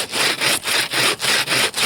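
A hand saw cuts through wood in the deep taiga frost, about seven steady back-and-forth rasping strokes close by, with short pauses between them and no talking.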